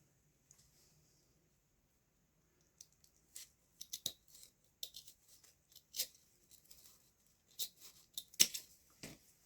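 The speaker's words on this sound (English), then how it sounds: "Cut right between the 2 Santas." Scissors snip through double ribbon printed with Santas while a Santa bow is being made, a quiet scattering of short crisp cuts and rustles after a near-silent opening.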